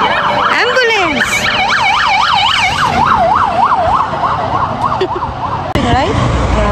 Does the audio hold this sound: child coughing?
no